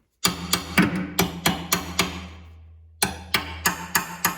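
A hammer gives an ATV brake pedal a series of light, evenly spaced taps, each a sharp metallic tick with a short ring. After a pause filled by a fading ring, the tapping picks up again at the same steady pace.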